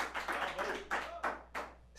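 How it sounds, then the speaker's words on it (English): Studio audience applause for a guest cartoonist on a talk show, several bursts of clapping rising and falling in close, moderately loud waves, with no talking over them. "Round of applause for Gustav for being here."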